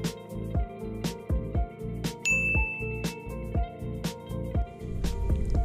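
A bright bell-like ding rings out once over busy music with steady beats, clear and close.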